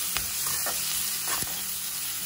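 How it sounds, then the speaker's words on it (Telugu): Onions sizzle and fry in a pan with salt for Andhra-style stuffed bitter gourd fry. A steady close hiss is broken by a few soft stirring scrapes, and no one talks. "ఉల్లిపాయని ఇప్పుడు వేగనివ్వాలి."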